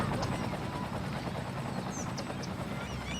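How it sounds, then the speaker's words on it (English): A firefighting helicopter in Cities: Skylines keeps up a steady rotor drone throughout, with a person talking over it. "Goodness, I'm glad the helicopter was there."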